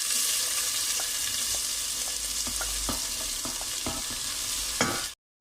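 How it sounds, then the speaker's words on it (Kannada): Onions sizzle and fry in hot oil for a vegetable pasta, a steady loud crackle with occasional stirring clicks, close up, then it cuts off abruptly near the end. "ಈಗ ಎಣ್ಣೆ ಕಾದ ನಂತರ ನಾನಿಲ್ಲಿ ಆನಿಯನ್ಸನ್ನು ಹಾಕ್ಕೊಳ್ತಾ ಇದ್ದೀನಿ."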